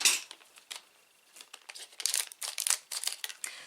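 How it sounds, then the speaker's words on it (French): Scissors snip through paper at a crafting table, a quick run of short, crisp cuts and crinkles, close and fairly quiet, with no one talking. "Alors, ma paire de ciseaux."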